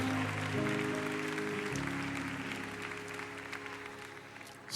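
Church congregation applauding steadily, a dense wash of clapping at moderate distance over sustained low musical tones, fading slightly toward the end.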